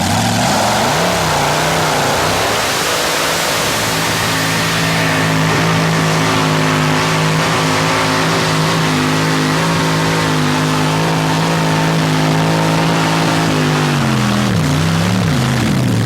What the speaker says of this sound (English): it's a 38 Ford, 426 Chrysler Hemi engine